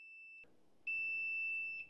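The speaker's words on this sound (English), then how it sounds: "With a momentary press, you'll get audible alarm and a double flash of the red LED. And here's what it sounds like when it detects voltage." Fluke 1AC-A2 voltage tester sounding its audible voltage alarm: a high electronic tone, a short pause, then a longer sustained beep, close and clean with no talk.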